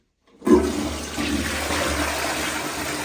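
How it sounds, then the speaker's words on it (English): Toilet in a newly installed heritage cloakroom flushes close by, starting with a sharp rush of water that settles into a steady, loud gurgling fill, with no talking. "Oh, decent flush actually, to be fair."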